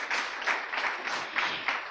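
An audience at a Temple University scholarship announcement gives a short burst of applause, moderately loud and steady over two seconds, with rhythmic surges of many clapping hands.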